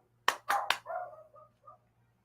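A dog barks three sharp times indoors, then trails off into softer grumbling yips, fairly quiet and alone.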